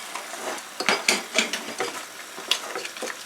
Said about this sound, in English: Hey, let me stir it.